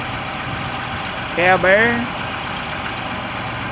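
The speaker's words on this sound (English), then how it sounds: "Local farm tractor." A 1991 John Deere 2955 two-wheel-drive farm tractor fitted with a loader idles with a steady low rumble throughout, while someone speaks briefly over it.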